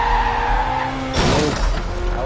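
Car tyres screech and skid as a vehicle takes a corner too fast in the racing game Victory: The Age of Racing, a sharp squeal rising over a steady loud engine drone, no voices.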